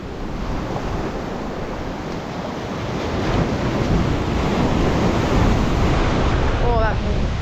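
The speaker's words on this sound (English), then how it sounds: "that northerly wind is horrendous" Strong northerly wind at a beach, roaring and buffeting the microphone over the wash of surf, loud and continuous, growing heavier midway, with a brief faint voice near the end.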